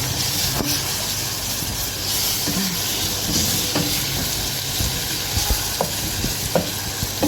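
Liver, onion and tomato sautéing in a pan, a steady soft sizzle with occasional stirring clicks and scrapes of a utensil against the pan, close by and continuous with no talking.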